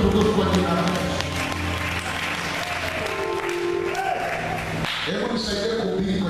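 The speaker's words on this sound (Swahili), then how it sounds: "Mpe Bwana makofi ya utukufu kwa jina la Yesu" A church congregation at EAGT Paradise Praise Center bursts into sustained applause, a steady roar of many hands clapping together that fills the room throughout, with a preacher's voice carrying over it.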